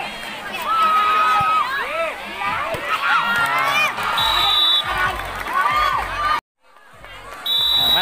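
Cheering students from the lower and upper secondary grades fill an indoor school sports-day basketball game, shouting continuously and loudly, with ball bounces and sneaker squeaks, whistle-like tones, a brief drop to near silence, then the crowd surges back.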